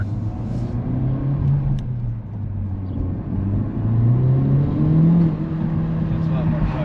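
A 2024 Honda Civic Type R hatchback drives in comfort mode with its engine note piped through no speakers, a steady low engine drone and road rumble heard from inside the cabin, continuous and moderately loud.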